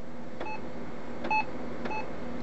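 Brother MFC-9320CW printer beeper sounding three short, separate electronic beeps, quiet and spaced under a second apart, over low room noise.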